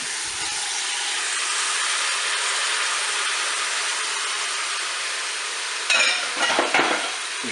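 Carrots and mushrooms frying on the browning setting of a Cookeo multicooker give a loud, unbroken sizzling hiss. Near the end, a short burst of spoon-stirring clatter and scraping cuts in.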